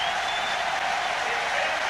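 Stadium crowd in Zurich cheering and applauding Haile Gebrselassie's world record run, a dense continuous roar of clapping and shouting from a large crowd.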